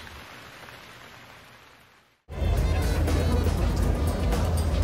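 Heavy rain pours at the Singapore Grand Prix, a loud steady wash of downpour that cuts in abruptly after a quieter, muffled stretch and continues without a break.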